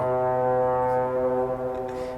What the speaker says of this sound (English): as the fairies' foghorn blows